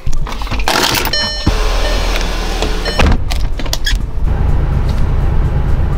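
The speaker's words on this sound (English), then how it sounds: "now let's go get in the car and go to Boynton Beach" A car is entered and started for a drive, with door handling, jangling keys and a whirring power window, followed by a steady engine and road rumble that carries on to the end.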